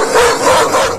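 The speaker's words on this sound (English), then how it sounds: "not just any bark" A dog barks sharply and aggressively at close range, a quick burst of loud yapping.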